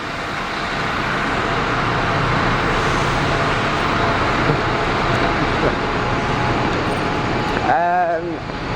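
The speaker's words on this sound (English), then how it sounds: "Look at this really noisy Dennis Trident." A Dennis Trident double-decker bus engine runs loud and steady as a continuous close rumble throughout, with a brief tonal squeal near the end.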